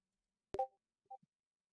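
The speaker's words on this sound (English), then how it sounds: "That's the notification for the badge." Badge notification chime from the video game Mirror Mayhem: a sharp click followed by a short tonal blip, then two softer, quick beeps, all faint and isolated against silence.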